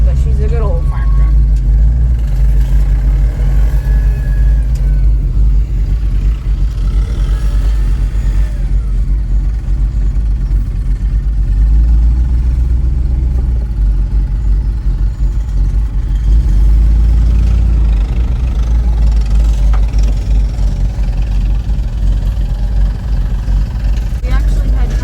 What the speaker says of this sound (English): This is a 1997 GMC C6500. She's a little rough around the edges, but she's a good old farm truck.